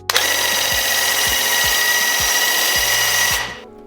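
Graco TC Pro cordless airless paint sprayer running on furniture work: a loud, steady high-pitched motor whine with a rhythmic pulsing knock underneath, cutting off abruptly near the end.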